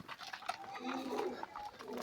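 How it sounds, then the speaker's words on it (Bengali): Free-roaming pigeons feed outdoors with faint, scattered coos and soft calls over a busy, clattering background, fairly quiet and distant. "আমার বাইরে যে ছাড়া দেওয়া আছে কবুতরগুলো ওগুলো খাবার খাচ্ছে"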